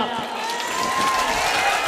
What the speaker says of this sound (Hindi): एक बार जोरदार ताली बजाएं आप